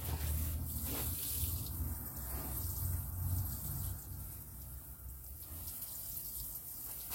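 Water pours steadily from a watering can onto freshly sown seedlings, a soft continuous splashing patter running throughout at close range with no talk.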